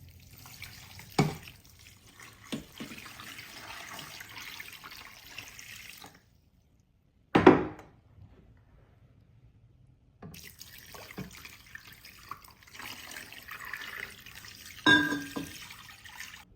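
Tap water runs quietly into a kitchen pot for bone broth in two stretches separated by a pause, with soft clunks and knocks in between.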